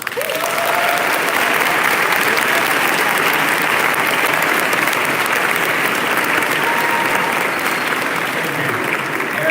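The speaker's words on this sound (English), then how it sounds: "Please hold your applause until the last award has been announced for each committee." Audience applause at a Model United Nations closing award ceremony, loud continuous clapping from a large crowd sustained evenly from start to finish.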